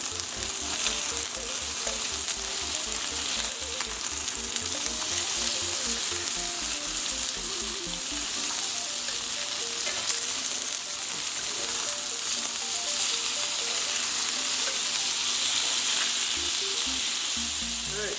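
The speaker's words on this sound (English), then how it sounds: "we're now going to flip and cook for another 3 minutes." Jerk chicken thigh sizzles steadily in a hot pan after being flipped, a loud continuous frying crackle running unbroken and close throughout with no voices.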